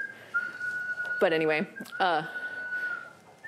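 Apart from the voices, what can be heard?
lung-powered whistle with selectable pitches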